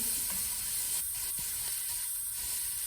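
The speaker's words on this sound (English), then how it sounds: "I just want to get those veggies started, but they're going to cook for a long time" Onion, pepper and celery sizzle in a hot pan with a constant loud hissing fry, broken by a few faint stirring scrapes, close and steady with no talking.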